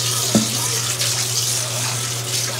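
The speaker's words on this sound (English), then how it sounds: "Just rinse this pot." Tap water runs steadily into a pot being rinsed in a kitchen sink, a continuous close hiss and splash with no talking.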